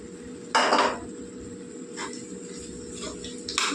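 A spoon stirs capsicum and green chillies into a tomato curry in a pan, making one loud close scraping clatter followed by softer clinks and scrapes over a steady low hum, with no talking.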